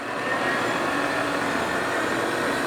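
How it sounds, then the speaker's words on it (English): Steady, even whirring hum of a Trak Sport B3 CNC bed mill spindle with an NST 40 taper running at speed, a quiet continuous broadband machine noise that holds level with no talking over it. "He's running the spindle. The spindle's very quiet."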